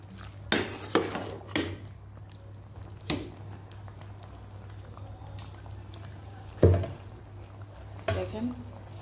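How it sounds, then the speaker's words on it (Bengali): Tomatoes and cauliflower are stirred in a pan. A utensil gives sparse, quiet metallic clinks and scrapes at irregular moments over a low steady hum. "নেড়ে চেড়ে দিব টমেটোগুলো"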